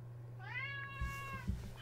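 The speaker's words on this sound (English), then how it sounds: "even with a cat meowing in the background" A pet cat named Luna meows once, a clear rising and falling call lasting about half a second, heard fairly close over a steady low hum in a quiet indoor room, followed by a few soft thumps.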